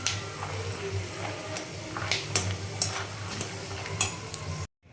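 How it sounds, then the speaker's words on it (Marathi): Steady crackling sizzle of peanuts and split chickpeas frying in oil, with scattered sharp ticks and scraping stirs, loud and close throughout. "अशा पद्धतीने आपण शेंगदाणे आणि हा दाव आपण छान असं तळून घेतला आहे"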